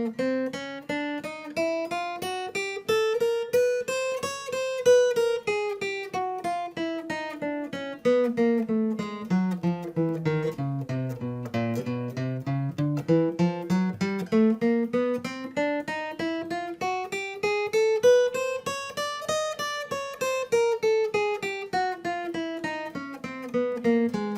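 Single guitar notes are alternate picked rapidly and evenly, down-up, running up and down a scale in a steady stream, clear and close with no talking.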